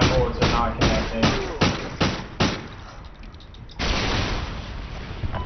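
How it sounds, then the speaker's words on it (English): Gunfire in a search and destroy match of a shooter video game: six loud, evenly spaced shots, a short lull, then a sustained burst of firing. "I'm already shooting at the people and my bullets are not connecting"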